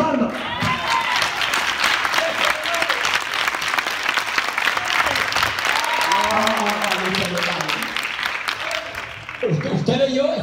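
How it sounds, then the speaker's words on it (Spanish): A church congregation applauds in a sustained burst of dense, loud clapping, with a voice speaking over the crowd partway through. "Eso se merece una ofrenda de palmas."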